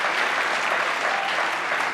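Steady, dense applause from a television studio audience on a late-night talk show, filling the whole moment without a break and with no voice on top.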